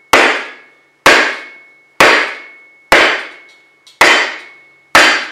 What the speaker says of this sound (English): Why use a little hammer when you can use a big one?